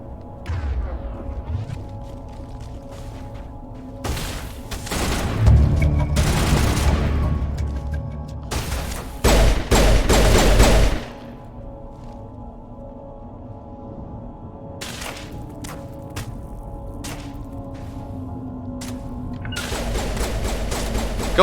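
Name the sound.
gunfire in the video game Mass Effect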